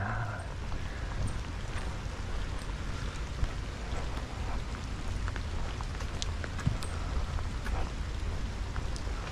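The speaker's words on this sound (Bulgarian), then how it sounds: "Дъждеца пак се поусилва лекичко" Light rain, picking up slightly, falls outdoors as a steady, dense hiss of drops with faint scattered ticks throughout and no voices.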